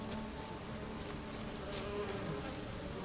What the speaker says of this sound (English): The bees? Not the bees. Oh, God. Oh my god, they're everywhere.